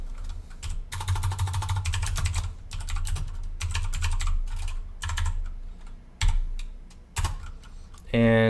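C# code being typed on a computer keyboard: quick, close bursts of key clicks in uneven runs, broken by short pauses and a few heavier single strokes.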